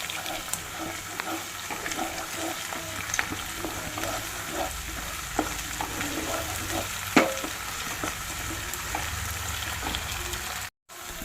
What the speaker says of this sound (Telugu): ఇప్పుడు అల్లం వెల్లుల్లి పేస్ట్ వేసుకోవాలి.